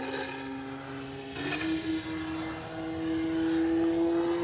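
Durafly Carbon Arcus 1000mm carbon RC model glider taking off on its maiden flight, a thin electric motor whine rising in pitch and growing louder, heard alone outdoors.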